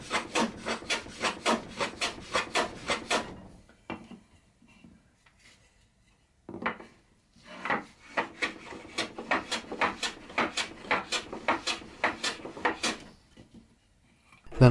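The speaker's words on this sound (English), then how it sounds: "I trimmed the legs to length on the shooting board." A hand plane trims wooden bedside table legs to length on a shooting board, giving close, crisp rasping strokes in a steady rhythm, a pause of a couple of seconds, then another long run of regular strokes.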